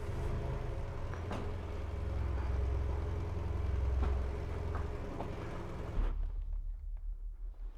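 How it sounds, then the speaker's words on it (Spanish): A motorcycle engine rumbles and echoes deep inside an abandoned mine, a low, reverberant drone heard from a distance that swells and fades, then drops away abruptly near the end. "¿Escuchan el estruendo que deja la moto adentro?"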